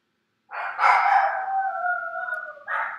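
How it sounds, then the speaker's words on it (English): After a doorbell rings, a single dog gives a long, wavering howl close by, falling slightly in pitch, then begins a second howl after a short break, with silence before it starts. "you're gonna have to hear my dogs bark for 5 minutes"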